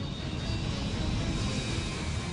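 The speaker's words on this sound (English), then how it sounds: "Unless Trainer can gain some speed, his plane will soon stall and tumble from the sky" Loud, steady drone of a light plane's engine straining in a steep, near-vertical climb close to stalling, a continuous broadband roar with no voices.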